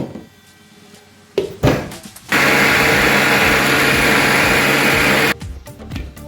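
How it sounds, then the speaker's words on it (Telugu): A mixer grinder blends cooked tomato and coriander chutney in its jar: a few clicks and knocks, then a loud, steady motor whir for about three seconds that cuts off abruptly, followed by more handling clatter. "మిక్సీ చేసేసుకుందాము"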